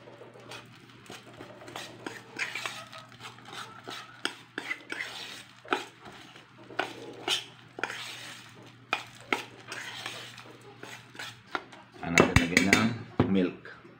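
Chicken feed mixed with dextrose powder and sugar is stirred in a container, with intermittent scraping and clinking of a spoon at close range and a louder burst of clattering near the end.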